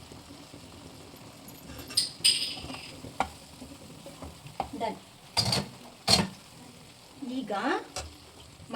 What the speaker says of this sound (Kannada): ಮಸಾಲೆ ಚೆನ್ನಾಗಿ ಫ್ರೈ ಆಗಬೇಕು.